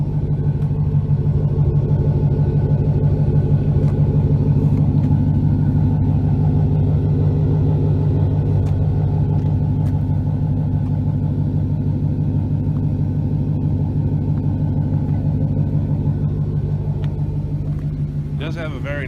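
A deep, steady exhaust rumble from an idling pickup truck, heard up close and continuous throughout.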